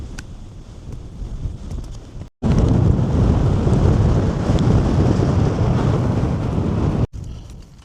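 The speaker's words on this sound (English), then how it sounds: "It's windy up here" Strong wind roars into the microphone in heavy, steady gusts, cutting out briefly twice before rushing back.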